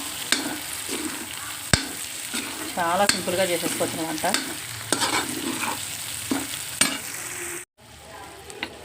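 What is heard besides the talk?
frying and stirring curry in pan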